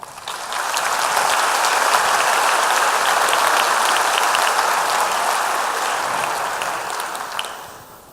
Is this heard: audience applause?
yes